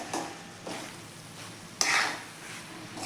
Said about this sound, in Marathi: सर्व ग्रेव्हीमध्ये आपण ह्या भाज्या व्यवस्थित अशा मिक्स करून घेऊया